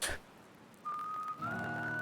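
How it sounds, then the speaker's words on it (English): Western-style whistling from the Live A Live video game, a clear sustained whistled melody that rises in pitch partway through, loud and alone after a brief noisy start. "The whistling."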